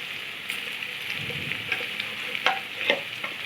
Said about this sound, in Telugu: అర అల్లం పేస్ట్ని వేసుకుందాము పచ్చివాసన పోయేంత వరకు వేయించుకోవాలి